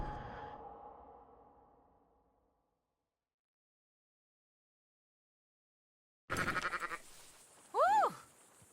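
Sheep in the video game Red Dead Redemption 2 bleat twice in quick succession, loud and close, after a long stretch of near silence and a fading earlier sound.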